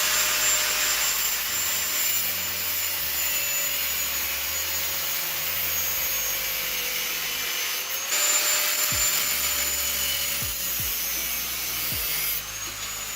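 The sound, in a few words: drilling off excess metal from a seat rail slider mechanism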